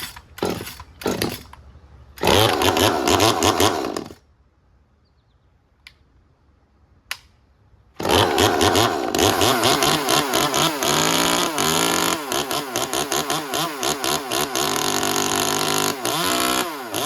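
An Echo 2511 chainsaw cold-starts after a few pull attempts, then bursts into loud, close revving, goes quiet for a few seconds, and roars back up to sustained high revs with throttle blips.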